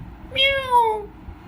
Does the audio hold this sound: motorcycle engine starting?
no